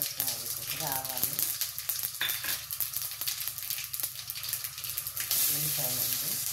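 Cumin and mustard seeds sizzling in a small amount of hot oil for a fry, a steady crackling hiss that runs throughout, with stirring and a voice talking over it.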